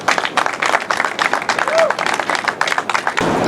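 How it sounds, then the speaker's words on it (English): Crowd applause at an outdoor flag raising and ceremony, dense steady clapping that fills the whole stretch and cuts off near the end, with a faint tone under it. "please give a round of applause for the founder of Remember the 400, Shadrock Porter"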